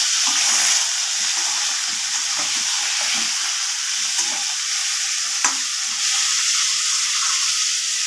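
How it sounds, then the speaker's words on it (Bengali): Onions sizzle loudly and steadily in hot oil in a pan, with a close, constant hiss and occasional faint stirring taps. "এবার আমি পেঁয়াজগুলি এর তেলের মধ্যেই দিয়ে দেব। পেঁয়াজটা ভালো করে ভেজে নেব।"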